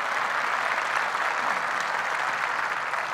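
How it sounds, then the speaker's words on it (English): Steady audience applause at a charity speech for a women's center, dense clapping from a crowd, even and sustained throughout with no talk. "Somebody better clap."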